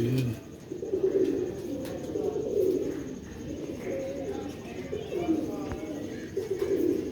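Pigeons coo in steady low, throaty bursts that overlap one another, close and continuous. Faint background noise runs underneath.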